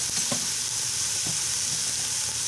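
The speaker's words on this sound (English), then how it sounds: "now I've got my Ninja Foodi on sear saute" Ground beef sears in a Ninja Foodi on the sear-saute setting, a loud steady sizzle close up with a few soft stirring scrapes.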